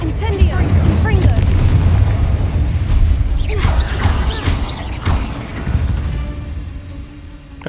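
Confringo spell blasts in a Harry Potter video game, a run of booming crashes and explosive bursts over busy game noise.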